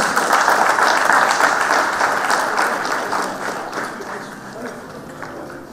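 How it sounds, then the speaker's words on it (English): Loud applause fills a manufacturing conference hall, many hands clapping in a thick continuous roar that gradually tapers off over several seconds. "Ladies and gentlemen, let's give a big round of applause."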